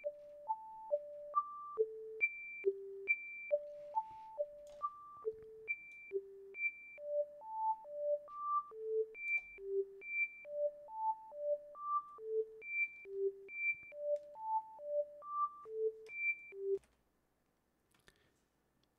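A modular synthesizer patch plays a repeating melodic sequence of clean electronic tones, with notes shifting from sustained to sharply plucked decays partway through as the envelope is adjusted.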